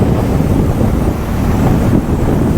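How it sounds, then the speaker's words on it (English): A 2026 Hero Hunk 440 single-cylinder motorcycle at full throttle, heard from the rider's position: a steady, loud low engine roar blended with heavy rushing wind, with no speech. "I have full throttle now."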